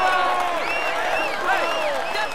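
A roadside crowd at the Tour de France 2015 stage to La Pierre Saint Martin in the Pyrenees cheers and applauds cyclist Thibaut Pinot of FDJ, a dense, steady roar with whistles and shouts rising above it, close and loud throughout.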